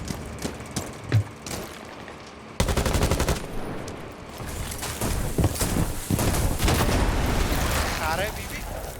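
Video game gunfire: rapid automatic bursts and sharp shots that grow denser and louder after a quieter start, with a person talking over the shooting.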